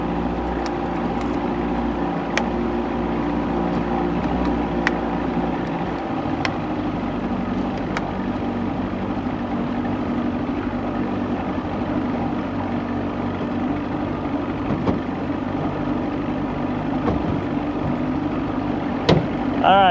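A steady engine drone runs throughout with a constant low hum, close and loud, from a 1990 Johnson 20hp outboard boat motor running at speed with an 11 pitch prop, with some faint background voices.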